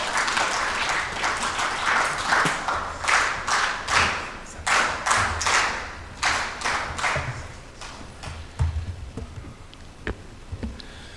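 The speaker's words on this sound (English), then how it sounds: "So please welcome him with a round of applause." Audience applause at an East African civil society summit in 2025: steady, dense clapping from a crowd for the first several seconds, then thinning into scattered, sparser claps with a few louder individual hits near the end.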